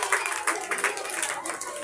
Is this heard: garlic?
no